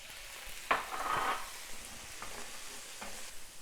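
Walnuts and jackfruit brown in a pan with garlic, producing a soft, faint sizzle broken by a few sharp stirring scrapes, heard close and without talking.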